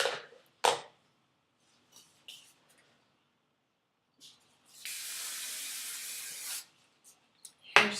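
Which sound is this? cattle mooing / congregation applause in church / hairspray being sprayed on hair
hairspray being sprayed on hair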